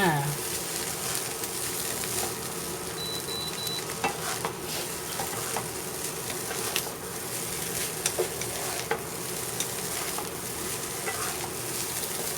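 Basmati rice is stir-fried in a pan with onion, tomato and pumpkin, giving a steady sizzle and the scrape of a spatula. Occasional sharp clicks of the utensil stand out against the pan, with no talk.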